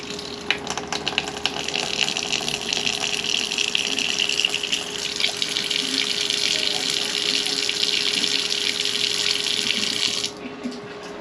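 Water gushes steadily from a faucet fed by a water pump, a loud continuous rushing stream with a faint constant pump hum beneath, running for about ten seconds before abruptly cutting down to a quieter flow.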